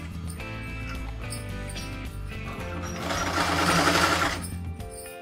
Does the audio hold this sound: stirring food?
no